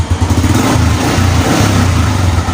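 A kick-started motorcycle engine runs close up after firing on the first kick, holding a steady, rough idle that dominates with no talking.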